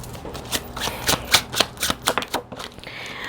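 Tarot cards shuffled up close in a quiet room, a rapid run of crisp papery riffles and soft flicks, about a dozen bursts over a few seconds with brief pauses between them.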